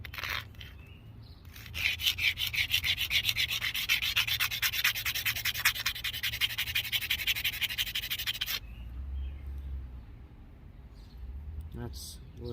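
A primitive stone chisel is ground against a stone, producing a steady run of quick, rhythmic abrasive scraping strokes for several seconds, close up, before stopping and leaving only faint background sounds.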